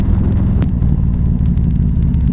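A 2017 Harley-Davidson Street Glide Special cruises along with a loud, steady low engine rumble mixed with rushing wind, close and continuous with no talk.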